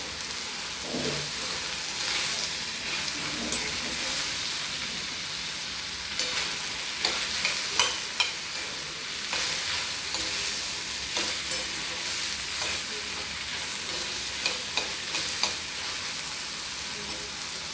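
A teaspoon of oil sizzles steadily as it heats in a pan, a continuous crackling hiss with scattered sharper pops and no talking.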